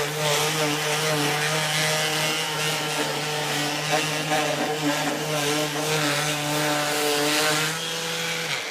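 A power sander works steadily along the edges of painted wooden shutters, a continuous buzzing drone with a constant motor whine that holds evenly for the whole stretch before stopping at the end, with no speech.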